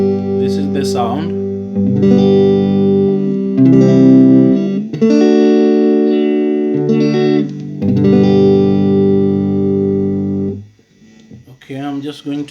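Electric guitar through a 1990 Fender Frontman amp with treble turned fully up, a run of bright sustained chords changed every couple of seconds, loud and close, ending in a few quick plucked notes.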